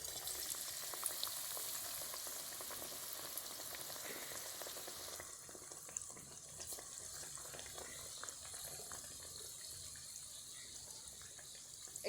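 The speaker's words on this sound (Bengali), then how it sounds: "বাদবাকি বেগুনিগুলোকে আমি ভেজে নেব" Eggplant fritters (beguni) deep-fry in hot oil with a steady, soft crackling sizzle that continues throughout, faint and close, with no talking.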